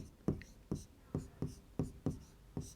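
Pen strokes scratch across paper while a maths problem is worked out, seven short, distinct marks in an uneven rhythm, close and quiet.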